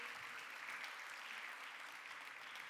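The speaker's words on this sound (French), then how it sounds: "Merci de les applaudir." Steady audience applause at a Francophonie literary award ceremony, many hands clapping in a dense, even wash that holds at a constant level throughout, with no voices standing out.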